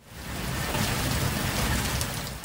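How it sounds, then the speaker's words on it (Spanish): Heavy rain from a hurricane, cyclone or typhoon pours down as a loud, dense, continuous roar with a deep rumbling undertone, swelling up at the start and holding steady, with no voices over it. "abundantes lluvias,"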